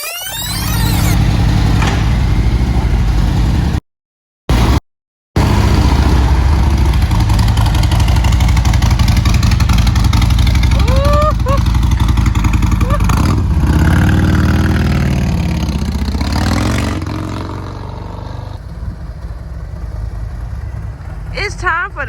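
A stage 2 tuned 2019 Harley-Davidson Road Glide motorcycle engine rumbles and revs loudly up close for about twenty seconds, with two short dropouts early on, rising and falling pitch, and people talking over it before the engine settles lower.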